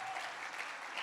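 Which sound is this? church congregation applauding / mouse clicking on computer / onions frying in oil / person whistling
church congregation applauding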